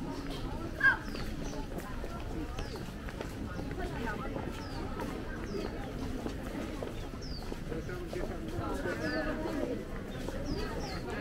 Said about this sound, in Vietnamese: Chim phóng sinh.